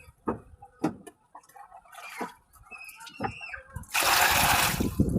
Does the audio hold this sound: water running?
yes